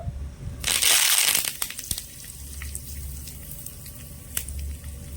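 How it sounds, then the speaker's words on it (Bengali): Curry leaves dropped into hot oil with fried lentils for a chutney tempering, giving a loud burst of crackling sizzle that settles into quieter spitting and ticks. "এবার আমি কিছুটা কারি পাতা নিয়েছি কারি পাতাগুলো দিয়ে দেবো"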